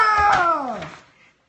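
A cat gives a single drawn-out meow indoors, close and clear, rising then sliding downward in pitch before fading away over about a second.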